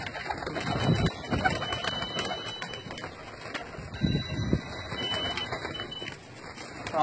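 Domestic pigeons kept together by a fancier coo in low, soft bursts around the one-second and four-second marks over a steady background hiss and a faint high hum.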